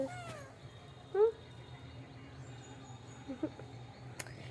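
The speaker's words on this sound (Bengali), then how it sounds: "এটা আরেকটা বিড়াল, সেই পাশে আরেকটা বিড়াল, এটা দু বোন" A cat gives a few short meows at a house next door, quiet and somewhat distant, spaced out over a low steady background with no talking.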